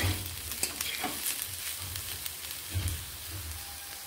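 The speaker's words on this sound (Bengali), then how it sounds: "এগুলোকে ভেজে নিচ্ছি। ভাজা প্রায় হয়ে এসেছে।" Soft, steady sizzle of vegetables frying in a pan, with occasional faint scrapes and pops, fairly quiet and close.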